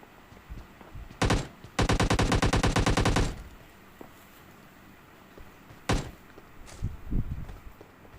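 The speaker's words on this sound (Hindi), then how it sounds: "सामने से आपको गन शॉट्स की आवाज़ आ गई होगी" Automatic gunfire in PUBG Mobile Lite: a single loud burst, then a sustained rapid rattle lasting over a second, followed by a few isolated shots and scattered distant bangs.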